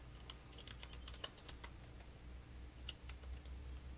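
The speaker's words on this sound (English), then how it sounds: "I'm typing as bad as her." Faint, quick clicking of a computer keyboard being typed on in irregular bursts, heard alone against a steady low background hum.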